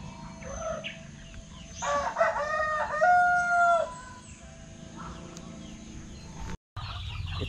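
A rooster crows loudly nearby in one long call, with softer clucking and farmyard noise around it, in a backyard farm.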